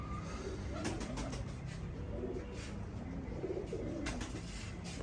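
A pair of Kamagar pigeons coos softly and repeatedly, close by, over a steady background hum, with no talking.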